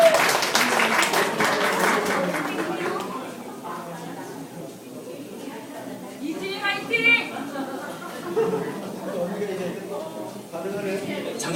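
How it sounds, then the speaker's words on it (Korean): An audience at a magic show claps, with the applause loud at first and then fading into chatter and light laughter, while a host talks over the room. "박수 한번 쳐주세요"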